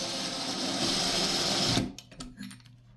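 A power drill driving screws to mount a towel bar, a steady high whirring buzz running for nearly two seconds before cutting off abruptly, followed by faint handling clatter.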